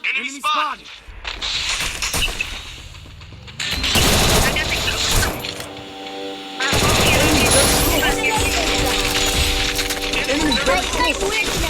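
Loud, continuous automatic gunfire comes from a shooter video game in dense rapid bursts over a steady din of game sound, while a player talks excitedly over it.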